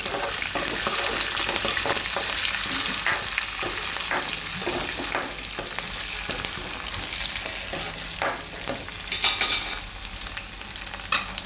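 Cashew pieces frying in a pan give a continuous bright sizzle with busy crackling pops and stirring scrapes, close and fairly loud, with no voices.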